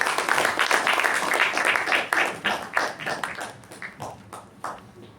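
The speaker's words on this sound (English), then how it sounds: "A round of applause" A room of people at a Toastmasters meeting clapping in a round of applause, dense and steady at first, then thinning into scattered individual claps that fade toward the end.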